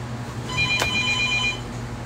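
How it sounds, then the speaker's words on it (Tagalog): A telephone rings once, a bright electronic trill lasting about a second over a low steady background hum. "Someone's calling the phone."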